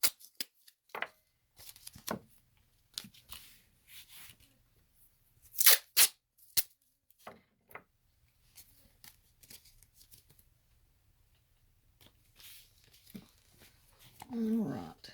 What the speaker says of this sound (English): And I'm going to tape it down.